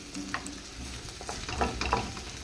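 Ginger and garlic fry in a hot pan on a stove, a steady sizzle broken by scraping stirs and a couple of louder clatters near the end.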